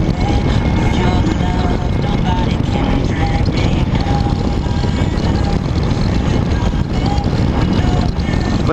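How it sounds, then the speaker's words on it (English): A 2013 Honda F6B Goldwing motorcycle cruises along the road, with a loud continuous engine drone mixed with heavy wind rush, steady throughout and close to the rider, with no talk. "I'll just give you a little quiet listen to how this bike would sound if you were on this bike"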